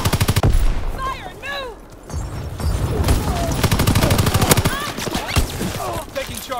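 Dense gunfire rattles through a Call of Duty: WWII battle, machine-gun bursts and rifle shots crackling loud and continuous, with voices calling out over the shooting.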